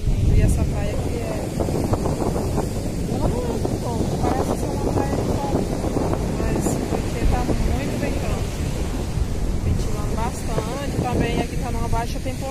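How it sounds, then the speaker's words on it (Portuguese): Strong wind buffets the microphone on a beach at Praia de Santiago while a rough, agitated sea roars with breaking waves behind it; someone talks over the steady noise. "a onda, o mar está muito agitado, está ventando bastante"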